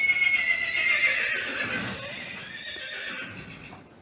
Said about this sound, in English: it's a horse neighing.